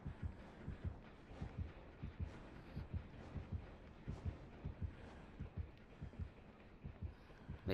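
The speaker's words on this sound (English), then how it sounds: "Maybe because I can hear a heartbeat." A steady heartbeat thumps in the video game Dead by Daylight, a regular low double pulse repeating about twice per second throughout, quiet and alone.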